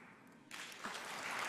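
Audience applause at a closing plenary session of a landscapes forum in Nairobi, starting abruptly after a quiet moment and swelling into a dense, steady wash of clapping that grows louder toward the end.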